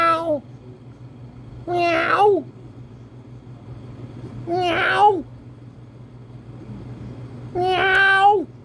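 A cat meows four separate times, each call rising and falling and spaced a few seconds apart, fairly close and clear over a low steady hum.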